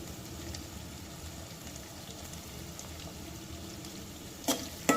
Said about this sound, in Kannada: ಬೆಳ್ಳುಳ್ಳಿನ ಹಾಕಿ ರೋಸ್ಟ್ ಮಾಡ್ಕೋಬೇಕು ಈರುಳ್ಳಿ ಜೊತೆ